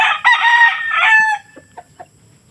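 Young gamecock stags, roosters, give one loud, close crow that rises and holds, then trails off into a few soft, scattered clucks.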